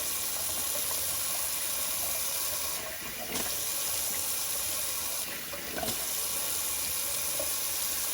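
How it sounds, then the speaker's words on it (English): Water runs steadily from a tap for a cold-water rinse after a shave, in a constant hiss with two brief breaks in the flow. "I'll just do a little cold water rinse"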